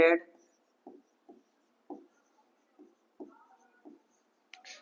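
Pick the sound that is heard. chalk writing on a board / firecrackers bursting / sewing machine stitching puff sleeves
chalk writing on a board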